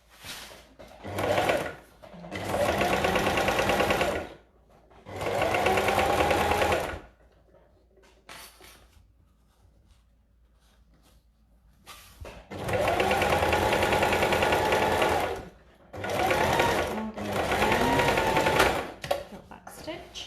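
A sewing machine top-stitches a zip into an oilcloth make-up bag, running in several loud, sustained bursts of rapid stitching separated by brief quiet pauses.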